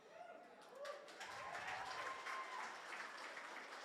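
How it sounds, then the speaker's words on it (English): Applause from an audience at a fashion show, a moderately faint wash of clapping with crowd murmur and voices mixed in, rising in the first second and sustaining steadily. "one more big round of applause for our designers"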